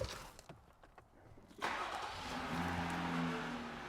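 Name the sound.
Jeep Gladiator engine started and running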